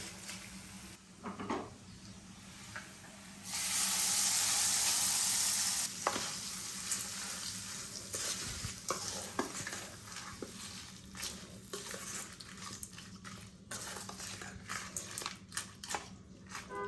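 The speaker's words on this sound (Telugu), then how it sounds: "కరివేపాకు తాలింపు సరుకులన్నీ వేగిపోయినాయండి" Curry leaves and tempering spices frying in oil, crackling and sizzling up close with a louder burst of spitting partway through, followed by scattered clicks and taps.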